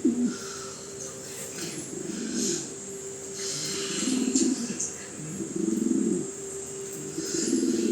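Pigeons cooing in a double cage with a divider, a steady low murmuring coo repeating in soft waves throughout, with faint bird chirps and background hiss.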